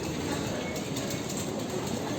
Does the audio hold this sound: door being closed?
no